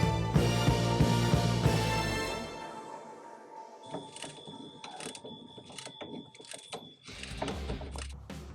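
Ratchet or power tool tightening the differential bolt on a BMW X3, a loud mechanical whirring burst followed by lighter clicking and ratcheting sounds nearby.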